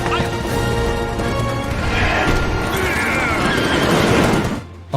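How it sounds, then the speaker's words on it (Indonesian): Teddy Roosevelt's horse whinnies loudly amid galloping hooves and crashing, chaotic commotion, a dense, loud rush of noise with voices mixed in. "Ini adalah kuda."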